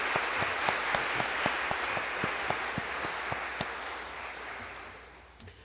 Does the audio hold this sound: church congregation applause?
yes